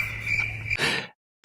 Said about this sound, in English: You hear that? Crickets.